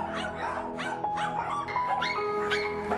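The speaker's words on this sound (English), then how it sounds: "This is the life of a puppy mill dog." Dogs at a puppy mill yip, bark and whimper in a continuous, overlapping chorus, close and fairly loud, with high whines rising between the barks.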